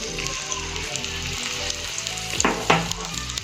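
Battered chillies for mirchi vada fry in hot oil on a medium flame, a dense continuous sizzle with crackling bubbles and a few soft clinks of a utensil, close and alone without talk.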